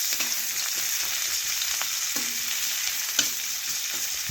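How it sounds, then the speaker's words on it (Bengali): Chopped onion frying in oil with panch phoron and whole cumin, a steady close sizzle broken by a few soft spatula scrapes and stirs. "পেঁয়াজ একটু লাল লাল করে ভেজে নিচ্ছি"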